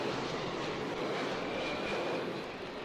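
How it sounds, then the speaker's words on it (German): A low-flying airplane passes over the crowded rooftops of Kowloon Walled City. Its engines make a continuous, even roar that stays fairly faint and distant throughout. "Alle 5 Minuten zieht ein Flugzeug im Tiefflug über die Dächer hinweg"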